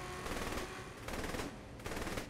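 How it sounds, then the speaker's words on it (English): Sustained automatic gunfire from the video game Saints Row The Third Remastered comes in three loud, rapid bursts with brief gaps between them, dense and close with no talk. "Who are they shooting?"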